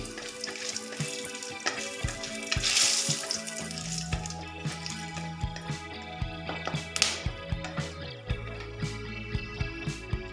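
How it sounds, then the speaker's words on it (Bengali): Dry chillies, cinnamon, black pepper and cardamom fry in hot oil, giving a soft, crackling sizzle with small ticking pops over a low steady hum. "এবার আমি দিচ্ছি শুকনো লঙ্কা, দারচিনি একটু, গোলমরিচ আর এলাচ। হালকা ভেজে নেব।"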